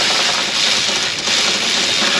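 A tool whirs steadily and loudly as it tightens a bolt on the underside of a 2007 GMC Sierra 5.3 truck, a continuous mechanical buzz that dips briefly midway.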